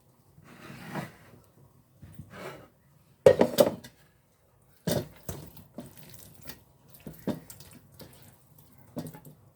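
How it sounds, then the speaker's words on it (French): Water runs and splashes into a cooking pot holding cut beef heart, in several bursts of pouring at close range with short pauses between, moderately loud, with no voices. "Je vais rajouter de l'eau et je vais laisser bouillir 15 minutes à feu vif."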